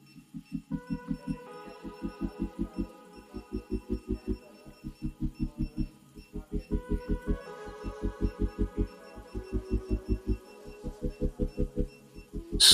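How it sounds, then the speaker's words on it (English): Rotating motor of a DC5132 tabletop barcode scanner running: a steady low hum that pulses in regular throbbing beats, with a faint high whine above, continuing evenly throughout. "let's try and start the rotating motor to test the speed of the scanner"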